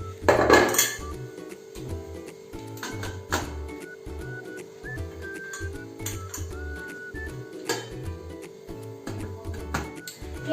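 Metal pots and a steamer being handled on a stove while millet momos steam: sharp clanks and clinks of cookware, with a faint ticking and a few short tones underneath, no voices.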